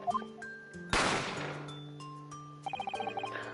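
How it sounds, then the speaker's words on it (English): A single sharp gunshot from The Great Ace Attorney Chronicles bursts out loud over game music, decaying into a reverberant tail before the tune resumes with light chiming notes. "A gunshot rang out, so I hurried out to the dining area to see what had happened."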